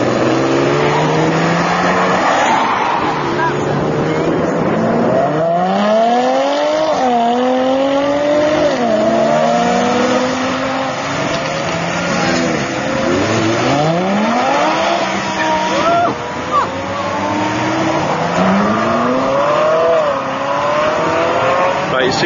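A Lamborghini Diablo supercar engine revs hard and accelerates through repeated rising gear pulls, loud and close, with other passing cars and a speaking voice mixed in.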